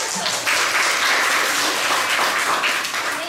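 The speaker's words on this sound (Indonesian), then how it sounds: "Oke, tepuk tangan." Classroom applause from students, a loud, dense burst of clapping that holds steady for a few seconds without talk.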